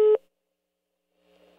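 A single short telephone busy-signal tone sounds loudly at the start while a call is being placed, followed by silence and then faint, indistinct background voices.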